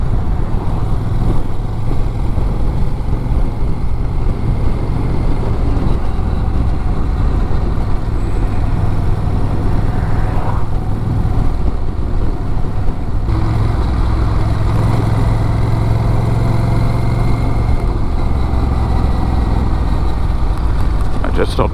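A Honda Rebel 1100 cruiser motorcycle is underway, its engine a steady loud low drone with heavy wind rush over it, constant throughout, while a rider talks over the noise.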